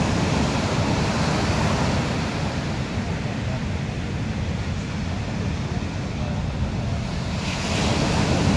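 Big, rough waves crash and roar continuously at Kehena black sand beach in Puna, Hawaii, with heavy surf and strong wind buffeting the microphone throughout.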